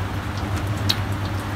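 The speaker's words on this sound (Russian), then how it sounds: "как раз дождик идет, поливается" Steady rain falls outdoors on a potted calibrachoa, a continuous loud hiss with a few sharper drop taps and a low hum underneath.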